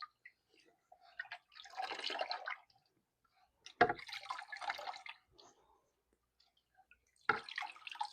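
A refinished rifle's metal part is dunked into water, giving three separate bursts of splashing and dripping with quiet gaps between them, close and fairly soft.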